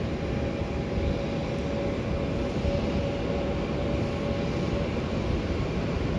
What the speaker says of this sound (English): Plane that's coming in now is a Vietnam Airlines flight coming in from Ho Chi Minh City.